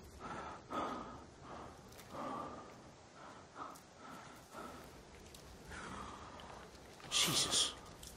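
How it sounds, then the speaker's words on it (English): A game character in the survival game The Forest breathes heavily in repeated ragged, gasping breaths. It is faint and steady, with a sharper burst near the end. "Too much heavy breathing."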